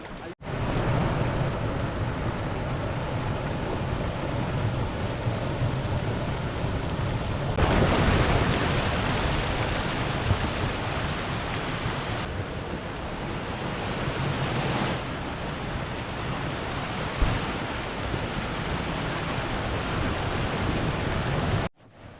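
Constant broadband rushing of a clear forest stream under coconut and areca trees sounds close and steady, with a few abrupt shifts in level as if the microphone moves.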